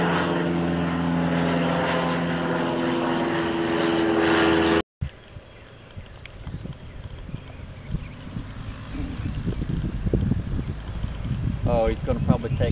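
An aerobatic propeller airplane with a symmetrical wing takes off, its engine droning steadily and fairly loud at first, then after a brief break growing fainter and more distant, with bursts of wind and other noise.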